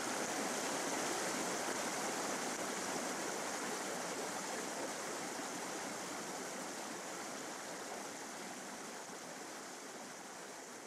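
A stream pours steadily into a pond, a dense continuous rush of flowing water heard close and fairly loud, unbroken and without any voices.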